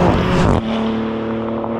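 A new Maserati GranTurismo with an eight-speed gearbox accelerates hard, its engine loud and close in a rising roar that suddenly drops to a steadier, lower drone after an upshift.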